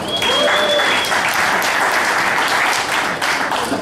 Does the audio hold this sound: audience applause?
yes